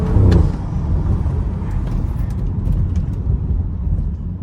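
A BMW 335i on a backroad: the engine roars loudly as it accelerates, then settles into a sustained droning pull with road rumble underneath, heard from inside the car.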